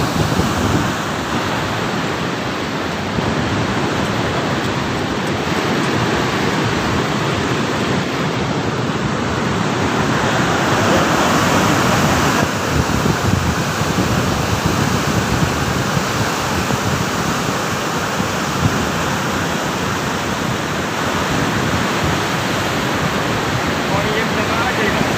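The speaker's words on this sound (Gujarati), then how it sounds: "ચેકડેમ પર થઈને પાણી પણ આવે છે અને ગેટ પાસે પણ પાણી આવે છે અહીંયા" Water of the Mahisagar river pours over a check dam and through its gates, a loud, steady roaring rush like surf that stays constant throughout, with wind buffeting the microphone.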